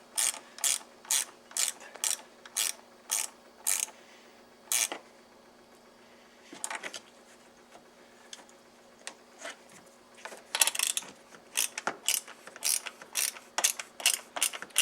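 A ratchet tightens the battery terminal on a Tesla Model 3 in quick, close bursts of sharp clicking strokes, with short pauses between runs.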